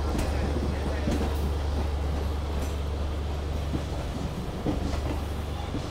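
Train rolling along near the Jamalpur locomotive shed, a continuous low rumble with faint clickety-clack of wheels, as heard from on board, with a voice talking faintly over it.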